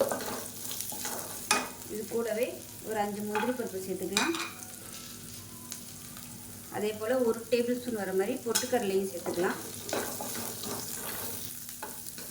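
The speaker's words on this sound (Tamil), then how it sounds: "சேர்த்து நல்லா கண்ணாடி பதம் வர அளவுக்கு வதக்கிக்கலாம்" Sliced onion sautéing in a pan for a green peas gravy: steady sizzling with intermittent stirring scrapes, heard beneath a voice explaining the cooking.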